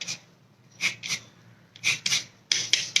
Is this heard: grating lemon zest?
yes